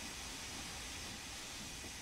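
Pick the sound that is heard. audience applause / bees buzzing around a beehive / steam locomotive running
steam locomotive running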